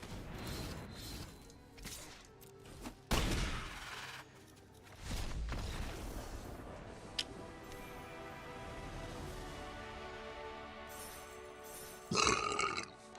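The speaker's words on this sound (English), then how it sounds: "Sorry for the burp there" A single deep burp, close and short, stands out among scattered thumps and clicks over a quiet background, with a brief loud burst near the end.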